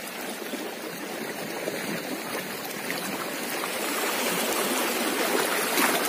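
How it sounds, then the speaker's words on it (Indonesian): Water washing steadily at the beach during early-morning fishing, a continuous broadband surf-like wash that swells slightly louder toward the end, with no talk. "Keseruan memancing di pantai."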